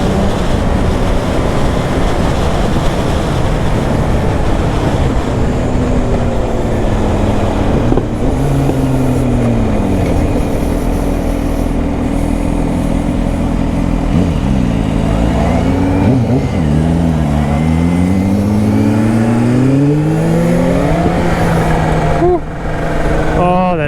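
A supercharged 2021 Kawasaki ZH2 motorcycle engine pulls hard through the gears, its loud close-up pitch climbing, dropping at each shift and climbing again, with strong wind rush over the microphone and a rider talking throughout.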